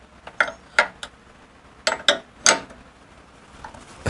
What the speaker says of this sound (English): Pretty big wrenches for oil line fittings